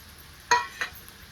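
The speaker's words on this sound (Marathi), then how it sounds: "आता हे भेंडी मी ह्यात टाकून घेते" Okra tipped into a pan of frying potatoes in hot oil gives a sharp sizzling hiss, followed by a second smaller sizzle burst, all brief and close.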